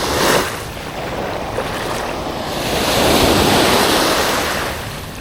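Waves wash in and swell close by, a loud rushing surge of water with wind buffeting the microphone.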